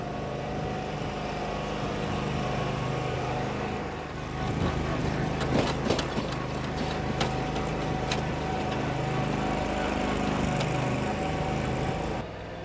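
Commercial riding lawn mower engine running steadily at close range with a droning, slightly uneven hum, building in intensity partway through and rattling with clanks as it moves.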